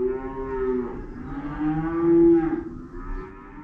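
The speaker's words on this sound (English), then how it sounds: "that's the sound of a bunch of cattle that are very mad at me." Several upset cattle on a farm moo loudly and close by, with long, overlapping, drawn-out bellows rising and falling over a few seconds, and no voices.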